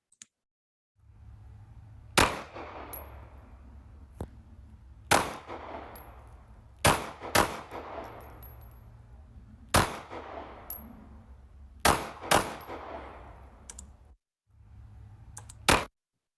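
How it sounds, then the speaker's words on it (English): About eight sharp, loud 9mm handgun shots fired outdoors at irregular intervals, some in quick pairs, each followed by a brief echoing tail over a low background hum. "This is going to be the sound of a 9mm handgun being discharged outside."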